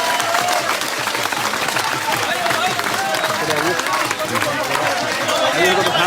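A crowd at a strike rally breaks into loud, sustained applause for an arriving politician, the clapping thick and continuous, with voices and chatter mixed in.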